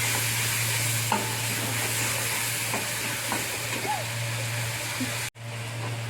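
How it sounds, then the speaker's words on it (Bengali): Ground spice paste frying in oil in a pan for a Bhola fish curry, a loud steady sizzle with repeated spatula scrapes and clicks, a low hum beneath and a sudden brief drop near the end. "মশলাটা একটু ভালো করে নেড়ে চেড়ে নেব।"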